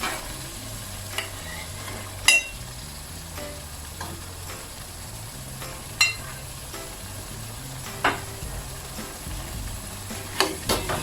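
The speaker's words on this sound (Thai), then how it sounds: "ใส่ไก่ลงไปผัดเลยค่ะ" Soft sizzling as chicken is stir-fried with curry paste for Thai green curry, with occasional scraping stirs and light clinks of a utensil against the pan.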